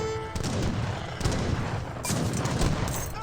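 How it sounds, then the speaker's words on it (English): Gunfire in the real-time strategy game Age of Empires 3 sounds as a dense, loud burst of overlapping musket volleys and booms, with a sustained crackling barrage running through the short stretch. "This force has been constantly firing away as well"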